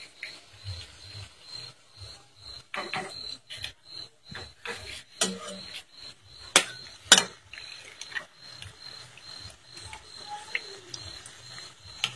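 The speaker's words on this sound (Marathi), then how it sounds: "आता हे अंडे फोडायचे एक अंडा फोडायचे आता इथं।" Four eggs are cracked for Indian egg bhurji, giving a series of sharp, close taps and cracks at irregular intervals, with soft rubbing and handling noises between them in a quiet kitchen.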